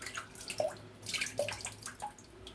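Small trickles and drips of water fall into a shaving brush bowl, a few faint separate splashes and droplets over a quiet room.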